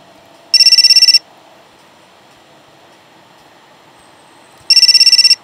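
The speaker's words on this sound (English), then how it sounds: "Come on, pick up the phone." A telephone rings in an apartment in the video game Fahrenheit, two loud electronic ring bursts separated by a few seconds of near silence.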